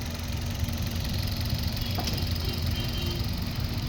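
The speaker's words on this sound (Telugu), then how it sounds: "ఇంజిన్ నాయిస్ చూడండి, చాలా సైలెంట్గా ఉంది." A 2022/23 Maruti Dzire VXI petrol car idles with a steady, even hum and a faint mechanical tick, heard close to the engine with no voices.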